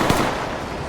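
Gunfire in the tactical shooter Ready or Not: a quick burst of close, sharp shots within a second, loud and dense, then fading.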